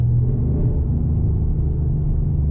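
A big-cam 2014 Chevrolet Silverado 4WD pickup drops out of cruise into fourth gear, its engine giving a deep steady rumble heard from inside the cab, loud and unbroken.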